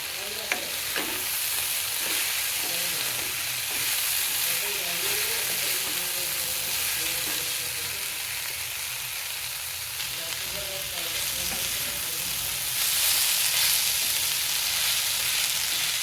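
Spices with a little turmeric fry in a pan with little oil, giving a steady, close sizzle with stirring scrapes throughout and brief faint talk near the start.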